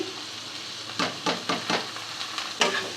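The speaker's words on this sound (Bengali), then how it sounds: "এখন শাকটা ভালো করে নেড়ে চেড়ে দিচ্ছি।" Leafy greens fried with onion, garlic and green and dried chilies sizzle in a pan while a spoon stirs them in several distinct scraping strokes, close and fairly loud.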